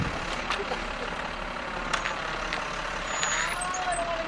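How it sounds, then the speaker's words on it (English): Outside in heavy blizzard snow, a stuck tow truck idles and strains, its engine rumbling steadily in the distance with faint reversing beeps and an air brake hiss, a low broadband drone throughout. "A tow truck got stuck"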